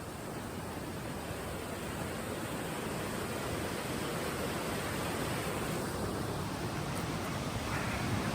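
A river rushes steadily beside a mountain hiking trail outside Hot Springs, a continuous broadband roar of flowing water that stays close and even throughout, with no voices over it.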